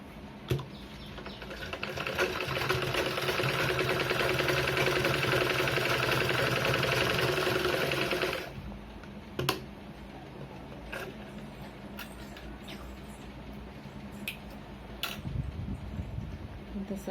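A sewing machine runs in one steady, rapid stitching burst on a blouse for several seconds, then stops, leaving scattered clicks and handling noises.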